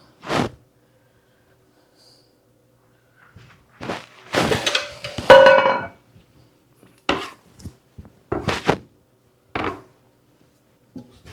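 Flour tortilla dough being kneaded by hand on a counter: sparse soft thumps and slaps in irregular bursts, close and fairly quiet, with silence between.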